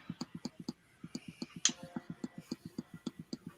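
A spinning prize wheel ticks in a fast, even series of sharp clicks that carry on steadily throughout, close and clear, with one brighter click midway.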